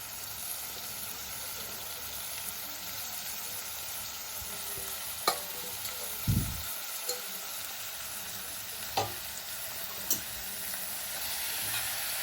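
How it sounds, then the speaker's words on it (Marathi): Chopped spinach with red chilli powder and coriander being sautéed in a pan: a soft, steady sizzle with a few sharp clinks and knocks of stirring scattered through it. "आणि हे व्यवस्थित परतून घ्यायचं आहे"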